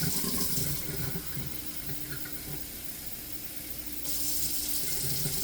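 Three cups of water pour steadily into a pot while making pichi pichi, a continuous close-up splashing rush that softens in the middle and then strengthens again.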